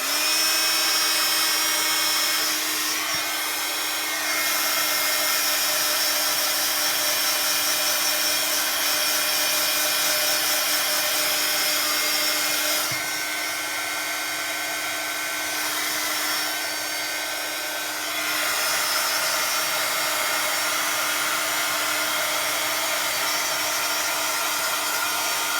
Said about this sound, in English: So I'm just going to heat tool it.